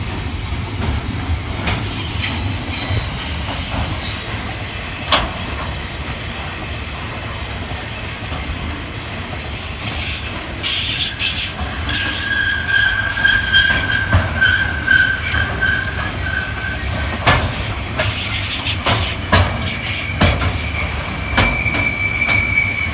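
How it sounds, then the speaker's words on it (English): A loaded freight train hauled by two MZ class locomotives rolls steadily past close by, with wheels squealing and clattering over rail joints and the loud rumble continuing throughout. "1429 and 1435 on a loaded freight to Minto."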